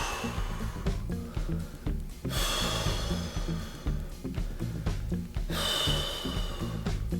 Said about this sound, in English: Exhale 3 times.